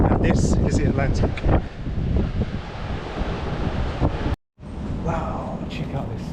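Atlantic Ocean waves wash against the Dominican Republic coast with a steady roar of surf and heavy wind buffeting the microphone, loud and continuous, with a short dropout near the end.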